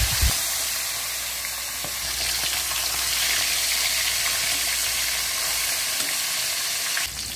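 Fish tilapia sizzling steadily in hot oil in a pan, a continuous dense crackling hiss that stays even and close throughout, with no talking.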